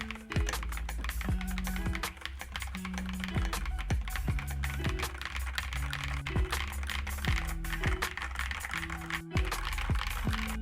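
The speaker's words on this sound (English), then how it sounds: "let's hear how it sounds" Rapid typing on an Akko keyboard fitted with V3 Cream Yellow Pro switches, a dense stream of close, crisp keystroke clacks with an occasional heavier spacebar thock, steady and uninterrupted.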